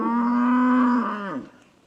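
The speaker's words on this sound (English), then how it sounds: "Come on, cows." A single long, loud cow moo, steady and full for over a second before sliding down in pitch and trailing off.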